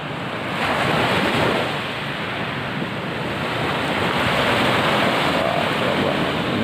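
Ocean waves break and wash continuously on a beginner surfing beach at Pantai Walur near Krui, a loud steady roar of surf mixed with wind buffeting the microphone.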